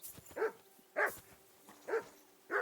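A dog in the video game Kingdom Come: Deliverance 2 barks four times in a spaced, irregular rhythm. The barks are fairly close and loud, with faint quiet background between them and no talking.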